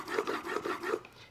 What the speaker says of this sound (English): we've been doing quite a bit of grinding here